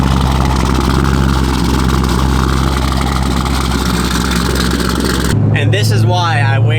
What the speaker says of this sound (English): It's raining, but let's get you a little cold start sound.